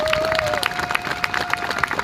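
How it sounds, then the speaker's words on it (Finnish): An outdoor event crowd clapping and cheering for a freestyle motocross rider, scattered applause building under an announcer's voice. "antakaa valtavat aplodit Sebastian Westersen"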